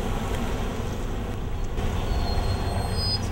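Steady rumbling noise of a train at a station, a broad continuous roar with a faint high squeal toward the end.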